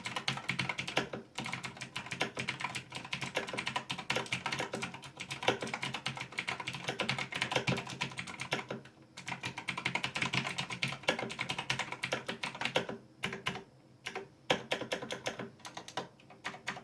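Steady fast typing on a Razer BlackWidow Ultimate 2016 mechanical keyboard, a dense run of close clicky keystrokes with a few brief pauses and no voices.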